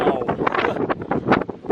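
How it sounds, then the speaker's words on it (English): Strong wind gusts buffet the microphone at Boulder-Grand Pass in Rocky Mountain National Park, loud and uneven, roaring in bursts for under two seconds. "It's windy."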